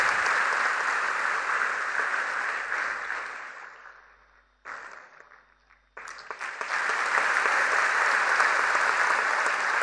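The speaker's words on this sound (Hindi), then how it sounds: "तालियों का आशीर्वाद" A crowd in Varanasi applauds a prize-winning performer from the Banaras gharana at a music award ceremony, loud sustained clapping that fades, drops briefly, then resumes strongly and continues to the end.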